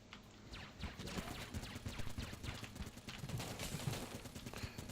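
The Gatling Gull boss in the Enter the Gungeon video game fires its machine gun in a dense, continuous rattle of rapid shots that holds steady for the whole stretch.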